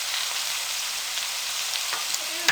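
Finely chopped onions fry with okra in a pan, giving a steady close sizzle and crackle throughout with a faint stir near the end.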